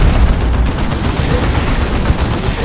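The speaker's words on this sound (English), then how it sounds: "That Leman Russ is taking shots though from the D-Cannon" Heavy D-Cannon fire pounds a Leman Russ tank in a Warhammer battle game, a loud, continuous barrage of booming blasts and crackling impacts with no voices.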